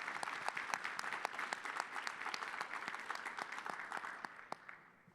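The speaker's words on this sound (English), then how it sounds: "Let's give a clap for the diversity scholarship" At a national business meeting, the audience claps for a diversity scholarship: sustained applause from a crowd with distinct individual claps popping through, moderately loud and fading slightly at the close.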